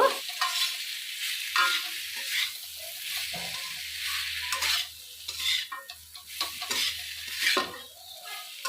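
Pointed gourd, potato and shrimp frying with spice paste in a pan, a steady sizzle broken by repeated stirring scrapes and clinks of the utensil against the pot.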